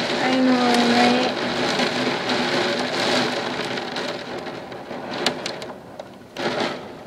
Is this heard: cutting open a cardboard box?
no